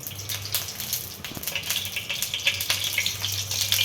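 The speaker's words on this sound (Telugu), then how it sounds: "కడాయి పెట్టుకొని ఇప్పుడు ఆయిల్ పోసుకోవాలి" Oil being poured into a kadai on the stove for frying, a continuous close liquid trickle and patter with light crackling, running steadily for about four seconds without talk.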